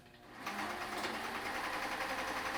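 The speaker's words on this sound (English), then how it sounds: "So here I'm going to sew till I get to the back of my plate" A sewing machine stitching a fabric face mask starts up and runs at a steady fast hum and whir, close and continuous for a couple of seconds.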